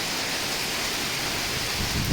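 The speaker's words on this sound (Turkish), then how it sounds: "Şöyle tolu yağıyor." Heavy hail pouring down outdoors, a dense, continuous hissing clatter at steady loudness with no voices.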